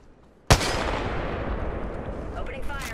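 A sudden loud blast of gunfire breaks the quiet in a video game shooter. A long rumbling, crackling roar follows, with more distant shots layered under it.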